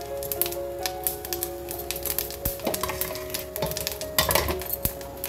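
Cumin seeds sizzling in hot oil in a kadhai, a crackling fry with light clinks of a spoon against the pan, steady and close throughout.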